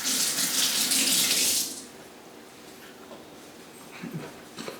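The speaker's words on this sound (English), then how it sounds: "Quick rinse will help out." Running tap water splashes loudly as a hand is rinsed after handling chives, then the faucet stops, leaving quiet kitchen sounds and a few small clinks.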